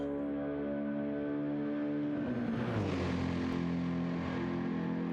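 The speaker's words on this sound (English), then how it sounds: "That AMG sounds lovely." Mercedes-AMG race car engine in a Le Mans endurance racing video game, a steady loud drone whose pitch dips and then climbs again as the car shifts and accelerates, with no talk over it.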